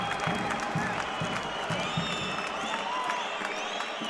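Arena crowd at the Karen Demirchyan Sports Complex in Yerevan applauds and cheers after a wrestling bout, a dense, steady wash of clapping and voices filling the hall throughout, with faint rhythmic thumps underneath.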